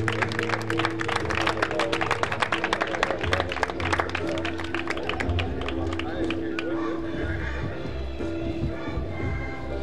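A crowd at a national doma vaquera horse competition claps for a prize presentation, steady applause mixed with a loud public-address voice and background hum.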